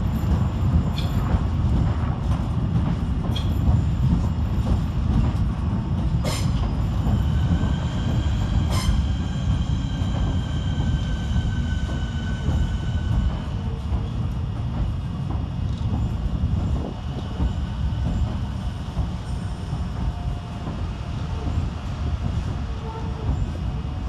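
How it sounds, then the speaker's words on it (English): A pair of Southeastern class 465 electric trains rumbles steadily into London Charing Cross terminus, with a few sharp wheel squeals and a low, continuous rolling drone that gradually eases. "Arriving to terminate with a Southeastern service off Gravesend is"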